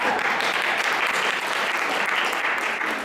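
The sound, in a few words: applause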